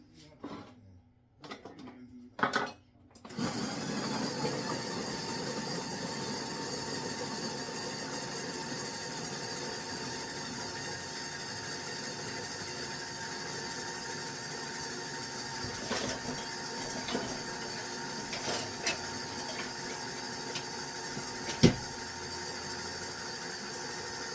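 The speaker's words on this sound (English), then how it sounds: "And now we're going to go ahead and puree this." A blender purees kimchi ingredients after a few short pulses, then settles into a loud, steady whirring motor drone that runs continuously for about twenty seconds, with a few brief clatters near the end and no talking.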